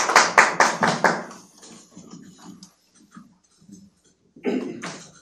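Brief burst of audience clapping at a Korean policy debate on fake news, loud and dense for about a second, then thinning into a few scattered claps and faint room noise before a short final flurry.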